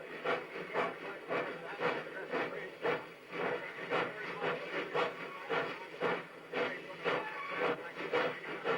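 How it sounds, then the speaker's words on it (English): A heavy 42 class locomotive, 120 tonnes with a very heavy axle load, rolls over a bridge at a museum, giving a steady rhythmic clatter of wheels over rail joints at moderate distance, with a hissing background. "the train runs over it again."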